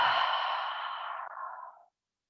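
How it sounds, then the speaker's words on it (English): A single long, slow exhalation during a yoga session, breathy and close, fading out steadily over about two seconds with no talking. "And breathe."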